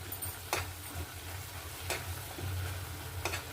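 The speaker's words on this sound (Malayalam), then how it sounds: "ഇത് ചുറ്റും തിളയ്ക്കുവാണ്" Coconut burfi mixture bubbles in a pan with a low, steady simmer and soft sizzle, broken by a few faint stirring scrapes; no voices.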